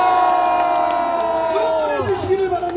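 Crowd at an outdoor political rally by a market entrance cheering and shouting, a loud, sustained roar with whoops.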